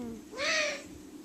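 A hand-reared owl lets out a single rasping, hissing squawk, close and fairly loud, rising and fading over about half a second against a quiet room.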